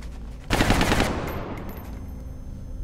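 A loud, rapid burst of automatic gunfire erupts in the strategy game XCOM Enemy Within, lasting about half a second before trailing off into a fading echo.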